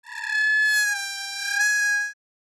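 A squeaky cellar door, trimmed to its tonal part, sings one steady, harsh, whistling squeal that bends slightly in pitch for about two seconds before stopping abruptly, close and alone.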